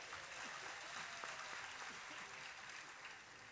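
A large audience at a religious satsang gathering claps for the saints in a dense, sustained round of applause that sounds somewhat distant and subdued, continuing evenly throughout.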